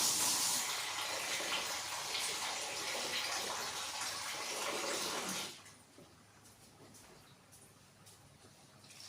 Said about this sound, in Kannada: ಇನ್ನು ಸ್ವಲ್ಪ ನೀರು ಹಾಕ್ಕೊಳ್ಬೇಕು